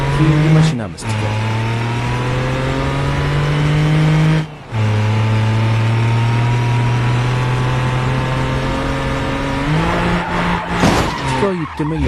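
Daewoo Tico racing in BeamNG.drive, a loud sustained engine drone with skidding tires, broken by a few short gear-change dips and a rising rev near the end.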